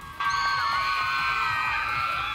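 About thirty girls from a middle school cheer team shout and cheer together at a roadside station during a city marathon, a loud, sustained chorus of high voices that bursts in suddenly and holds steady.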